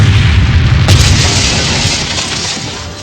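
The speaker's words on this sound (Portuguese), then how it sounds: "vemos uma bomba dentro do embrulho e tudo explode" A bomb hidden in a wrapped box explodes in a film scene: a loud, close blast with a sharp crack followed by a long decaying rumble.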